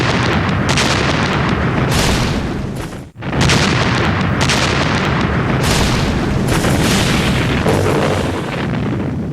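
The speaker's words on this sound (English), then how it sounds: "they were hit by a huge Soviet artillery bombardment" A huge Soviet artillery bombardment at Kursk in 1943 roars as a dense, continuous wall of loud booms and blasts, with barely a pause, overwhelming and close.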